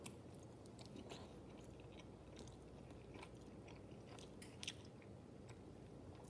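Faint close chewing and biting on a bacon-wrapped, BBQ-glazed chicken leg cooked on a pellet grill, soft crunches and wet munching in a quiet room with no speech.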